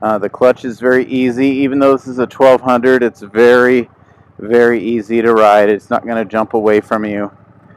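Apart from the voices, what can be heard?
No distinct noise like a dog, phone or traffic.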